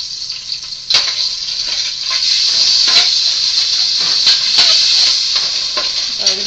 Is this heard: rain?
no